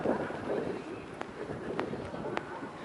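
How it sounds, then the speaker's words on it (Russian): Steady, rushing wind gusts along an open alley in Kaliningrad, a continuous broadband roar with a few faint ticks, while people talk under it. "Сколько мы здесь не были, всегда ветер."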